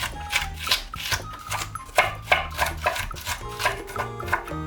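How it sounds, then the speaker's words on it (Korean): A knife finely chops a green bell pepper on a cutting board in a home kitchen, with quick, evenly spaced close-up chops and faint music underneath. "피망 1개도 잘게 잘라줍니다."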